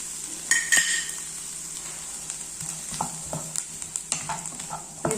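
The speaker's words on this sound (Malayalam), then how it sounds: "ഉള്ളിയിലൂടെ ഇഞ്ചിയും വെളുത്തുള്ളി പേസ്റ്റ് കൂടെ ഇടാം" Onions sautéing in a pan with ginger-garlic paste for paneer butter masala, a steady soft sizzle broken by repeated scraping and clinking of a spatula stirring against the pan, close and fairly quiet with no talking.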